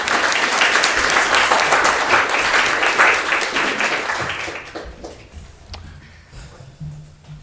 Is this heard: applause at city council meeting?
yes